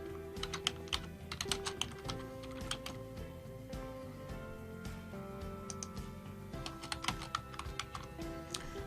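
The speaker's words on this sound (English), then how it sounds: "You can just type something in." Rapid, uneven typing on a computer keyboard while entering text in PowerPoint 365, with crisp clicking keystrokes in short bursts and pauses, close and moderately quiet, with no talking.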